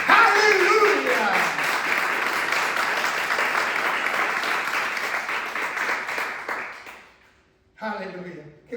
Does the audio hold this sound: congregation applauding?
yes